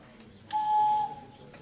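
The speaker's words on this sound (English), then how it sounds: "we all whistled with our hands like this" A single clear, steady hand whistle sounds for about half a second, pure and tonal against quiet background.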